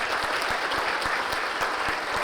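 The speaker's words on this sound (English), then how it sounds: "All right, round of applause." Audience applause fills the room at the annual CASA of Marion County luncheon, steady dense clapping from a crowd that holds at an even level throughout.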